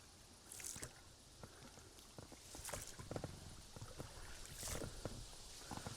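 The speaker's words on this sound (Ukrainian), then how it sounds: "зараз пропливу на човні" Oars of a rowing boat splash and dip into reservoir water on the Southern Bug river at a steady rhythm, with soft sloshing and trickling between strokes, fairly quiet and close.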